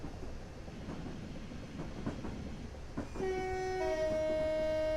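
A simulated train coasts downhill on the Isle of Wight line in Train Simulator 2018, its steady rolling rumble broken by faint clicks before a loud horn blast begins partway through and sounds alone to the end.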